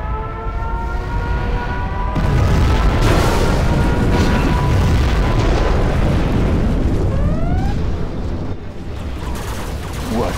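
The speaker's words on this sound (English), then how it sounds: "We have launched our nuclear missile." Nuclear missile detonation in Command & Conquer Generals Zero Hour, a loud sustained roaring blast and rumble lasting several seconds, with rising and falling whistling tones and debris-like crackle throughout.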